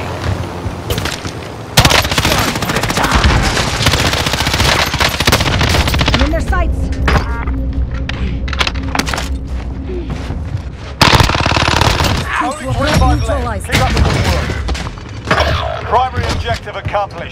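Automatic gunfire from a machine gun in the video game Warzone on Rebirth Island, sustained loud bursts with brief pauses, mixed with game effects and in-game voice announcements.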